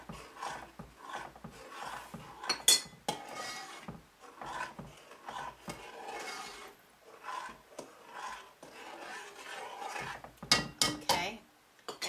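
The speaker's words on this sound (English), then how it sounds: "I'm going to stir in a little bit of vanilla to flavor it" Vanilla stirred into a simmered cream mixture for an agar agar dessert, with faint irregular scraping and clinking of a utensil against a pot, quiet and close with a voice talking at times.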